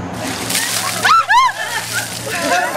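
Cold water poured over people doing the ALS Ice Bucket Challenge, heard as a short, loud splash and slosh mid-clip with voices and crowd noise around it.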